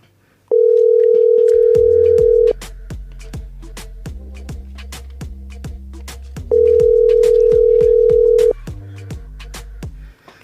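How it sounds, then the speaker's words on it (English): Two long, loud, steady telephone ring tones about two seconds each, separated by a pause, play over a rhythmic percussive music beat. "so the phone is ringing."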